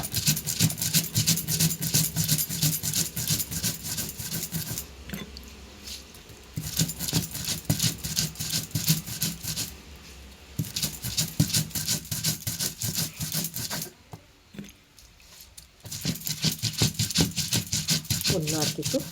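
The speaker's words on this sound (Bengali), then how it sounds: "আদা আর সর্ষেটা ভালোভাবে শিলেতে বেটে নেব" Ginger and mustard are ground on a stone slab with a grinding stone, a rapid rhythmic scraping and knocking that pauses briefly a few times and then resumes.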